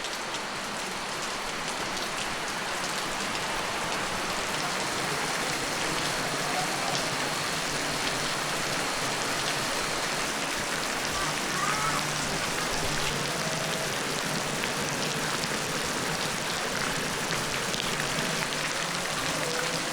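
Steady rain falls on a yard outside a religious study house, making a dense, continuous hiss of drops that stays even and close for the whole stretch, with no voices.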